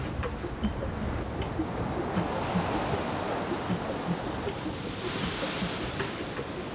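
Big ocean waves out in open water surge in a steady, dense wash of noise with a broad roar of surf and no voices.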